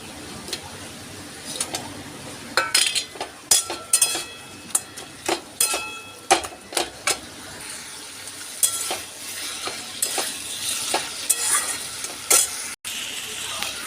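A fish head goes into pui shak cooking in a pan, bringing a steady sizzle with sharp clinks and knocks of a utensil against the pan, busiest early on and settling into continuous frying noise.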